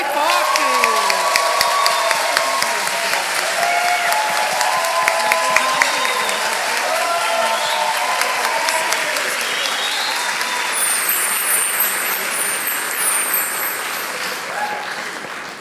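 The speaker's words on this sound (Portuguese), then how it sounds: "Uma salva de palmas bem forte." Wedding ceremony guests applaud steadily in a sustained burst of clapping with some cheering and shouting, loud and continuous, with a few voices mixed in and a priest's voice briefly audible.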